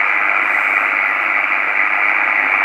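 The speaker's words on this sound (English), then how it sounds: "station which I was hearing is below the noise floor, and this is the QRM which is created as of now" Man-made radio interference on a ham radio band, a loud, steady buzzing hiss of static that holds without a break and drowns out any station underneath.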